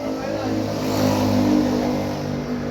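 A remapped, tuned car engine revs steadily with a sustained, rising and falling droning hum that is close and fairly loud, while people talk over it.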